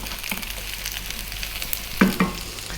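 Fresh green chili frying in a pan gives a steady close sizzle, with a couple of brief stirring scrapes and crackles.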